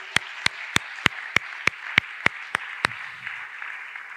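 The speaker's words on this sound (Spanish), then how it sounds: "Dele un aplauso al Señor" A church congregation claps in praise, about ten crisp, evenly spaced claps in steady unison rhythm that then stop, clear and close with no talking.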